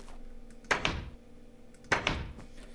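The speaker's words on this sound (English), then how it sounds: "Place a door there, and place a door there, and voila, you have double doors." Wooden doors are placed in the video game Minecraft to make a double door: two short, distinct thunks about a second apart, each with a brief clattering decay, over a quiet low hum.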